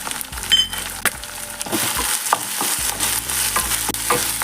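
Coconut pieces and cashews with dried red chillies sautéing in a pan for a mutton fry, with a soft steady sizzle under repeated scraping stirs and a few light clinks, close up.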